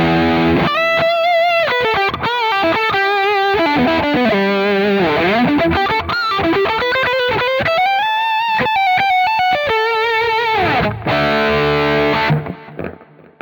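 A Sterling JP150D electric guitar through distortion plays a fast, bending lead phrase of picked notes and slides, loud and upfront, ending in a sustained note that trails off, with no talking.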